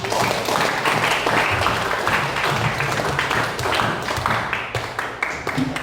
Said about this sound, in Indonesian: tepuk tangan untuk Paulus.